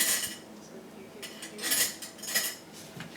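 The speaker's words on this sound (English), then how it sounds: "Just going to get eating spoon here." An eating spoon being fetched from among kitchen utensils, producing several light metallic clinks and rattles in scattered bursts, close by and moderately quiet, with no speech.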